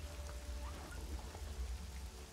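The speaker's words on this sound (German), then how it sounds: "Es regnet." Steady rain falling and pattering on a surface, a dense continuous wash of drops at even loudness with no voices.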